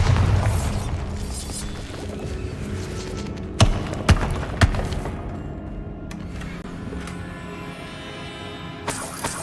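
Bombarda blast spells go off in Hogwarts Legacy. Three sharp, fairly loud bangs come close together over a low game ambience, and a fainter pop follows later.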